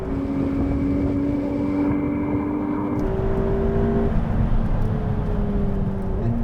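A McLaren 720S supercar accelerates hard in a drag race on a runway against a Ferrari 488 Pista and Lamborghini Aventador SV, a loud steady engine roar with rising gear tones and a shift midway.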